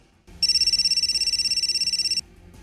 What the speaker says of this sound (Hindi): नाबालिग के मोबाइल पर कॉल आई